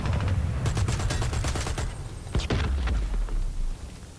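Gunfire in the online shooter Dirty Bomb, rapid close bursts of automatic shots over a low rumble, a brief lull, then a sharp single crack and a final short burst, loud and continuous.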